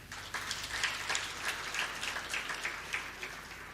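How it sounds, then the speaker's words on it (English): Scattered audience clapping at a KIPRA public policy event in Kenya, a modest burst of hand claps spread across the clip at moderate distance, fairly faint and thin with no talk over it. "Maybe a clap for them."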